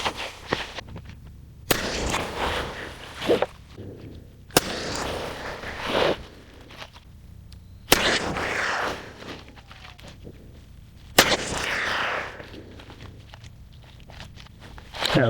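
Stainless budget hunting rifle fired outdoors, several sharp gunshots spaced a couple of seconds apart, each loud crack followed by a short decaying echo, with quiet ambient noise between shots.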